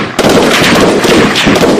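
Loud, close gunfire from police shooting practice: a few sharp bursts of shots crack and echo in quick succession over a couple of seconds.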